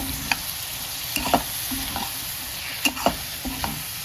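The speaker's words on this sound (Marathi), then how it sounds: "आता टोमॅटो टाकून घ्यायची. आणि आता छान मिक्स करून घ्यायचं." Tomatoes for tomato chutney fry in a pan with a soft steady sizzle while a spoon stirs and scrapes them, giving a few sharp clinks against the metal over the quiet hiss.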